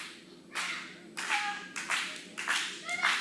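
At a women's division wrestling championship match, a crowd claps in uneven bursts, several sharp waves of hand claps rising and falling, with faint voices and cheering between them.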